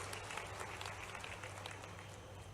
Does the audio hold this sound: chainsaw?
no